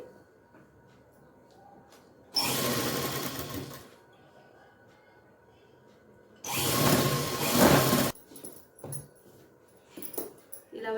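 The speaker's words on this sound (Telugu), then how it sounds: "ఇప్పుడు ఈ వైపు కుట్టుకుందాము" A sewing machine stitches cloth in two loud bursts, one about a second and a half long and a later one of about the same length, with quiet handling noises and faint rustling of fabric between and after them.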